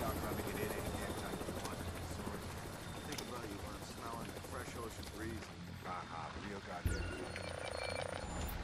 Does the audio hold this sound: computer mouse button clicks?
no